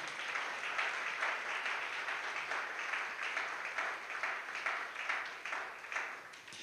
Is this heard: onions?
no